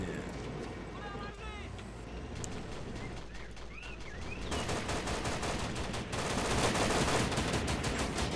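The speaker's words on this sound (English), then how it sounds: "Alright, shooting the gunner out of the 50 cal." Machine gun fire from a .50 cal position in the Cold War mod of the strategy game Men of War: Assault Squad, rapid bursts growing denser and louder toward the end amid distant battle noise, with voices shouting.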